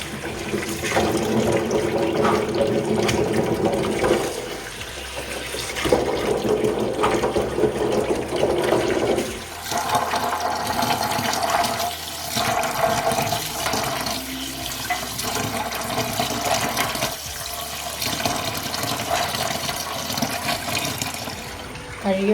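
Running water pours steadily while something is washed and scooped by hand, with splashing and shifting flow throughout, loud and close.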